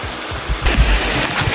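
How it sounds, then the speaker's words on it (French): Water of the Sticky Waterfall near Chiang Mai, Thailand, rushes and splashes close by, a loud broadband roar with low surging thumps. "Donc la cascade collante."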